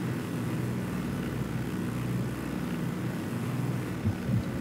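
A helicopter flies steadily in the open-world shooter Ghost Recon Wildlands, a continuous droning rotor and engine hum holding at moderate level with a couple of soft thumps near the end.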